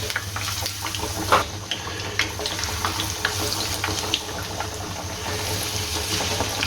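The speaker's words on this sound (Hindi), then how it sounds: "इधर मैंने कुकिंग ऑयल एक पैन के अंदर रखा हुआ है, तो ये अच्छे तरीके से गर्म हो गया है। अब इसके अंदर करते हैं हम पैटी" Chicken patties deep frying in hot cooking oil in a pan, a steady close bubbling hiss with scattered pops and crackles running throughout.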